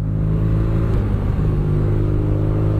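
2017 BMW R nine T boxer-engine motorcycle running under load, a deep steady rumble with low throbbing harmonics and a slight rise in pitch, heard close and alone.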